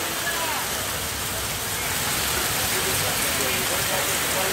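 Steady unseasonal rain falls during a thunderstorm, a dense, even hiss of downpour that stays loud and unbroken throughout with no distinct thunderclaps.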